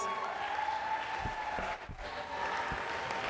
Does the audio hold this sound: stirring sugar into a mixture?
no